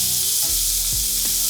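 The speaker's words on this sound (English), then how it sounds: "We want a good sizzle as soon as it hits the pan." Spring onion, courgette and pepper hit hot oil in a pan, giving a loud, close, continuous sizzle with a few stirring scrapes and no talk.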